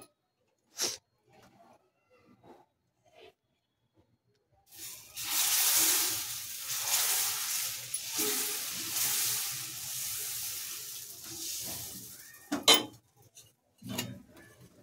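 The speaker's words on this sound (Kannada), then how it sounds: "ಒಂದು ದೋಸೆ ಹಾಕೋಕ್ಕೆ ಒಂದು ತವ ಇಟ್ಕೊಳ್ಳಿ. ತವ ಇಟ್ಕೊಂಡು ಈ ರೀತಿ ಚೆನ್ನಾಗಿ ಒರೆಸ್ಕೊಂಡು" A dosa tawa griddle is set down with a few light knocks, then wiped with a long, steady rasping swipe lasting several seconds, followed by a couple more sharp clanks near the end.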